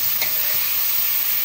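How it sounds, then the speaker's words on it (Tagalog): Chicken curry being stirred in a pan, a short stretch of soft scraping and a continuous sizzle from the frying pan, close and fairly loud, with no talking. "halu-haluin lang po natin siya guys"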